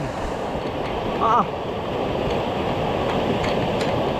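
A river swollen after days of rain rushes past in a constant loud roar of churning water, with wind buffeting the microphone and a brief higher splash in the middle.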